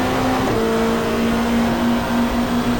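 A BMW touring car engine in the GTR2 racing game, 1995 Australian Super Touring round at Symmons Plains, holding a loud steady high-revving drone with a constant pitch throughout, with no talk.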